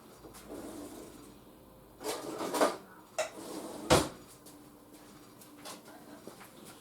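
Rummaging in a kitchen drawer while baking cinnamon rolls: a few scattered clatters and knocks of utensils over about four seconds, with a couple of sharper bangs midway, moderately close in an otherwise quiet room.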